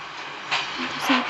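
A metro train runs with a steady broadband rumble and hiss, a couple of brief surges rising over the continuous noise, and voices faintly present in the background.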